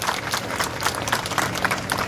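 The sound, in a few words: audience clapping to welcome someone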